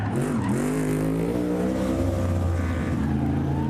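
A NASCAR race car on the Chicago street course skids during a post-race celebration, its engine droning loud with rising and falling pitch and tires squealing, close and continuous.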